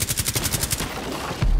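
Rapid automatic gunfire through a window in Rainbow Six Siege, a fast, evenly spaced burst of loud shots that stops abruptly, followed by a heavy low thud.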